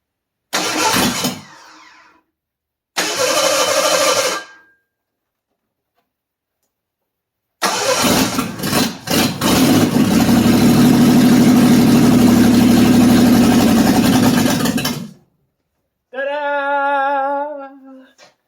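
A 1985 Ford Bronco II engine, freshly rebuilt after a head gasket replacement, cranks in short bursts, then catches and settles into a loud, steady idle before cutting off. Someone speaks briefly near the end.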